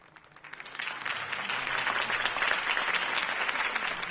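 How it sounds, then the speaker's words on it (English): A crowd in Batman: The Telltale Series bursts into applause that swells within half a second and holds steady as dense, continuous clapping and cheering. "could have heard that applause"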